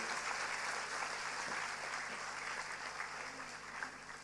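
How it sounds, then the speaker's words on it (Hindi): An audience at a Christian church gathering applauds steadily, a dense, even clapping that stays fairly constant for several seconds. "आप अपने लिए तालियां बजाइए।"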